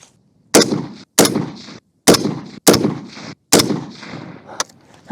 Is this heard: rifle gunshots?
yes